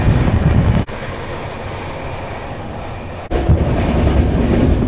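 The 12883 Ruposhi Bangla Express rolls along from Kolkata toward Bishnupur, a steady rumbling roar heard from inside or beside the moving train, with two sharp drops where the sound briefly cuts out.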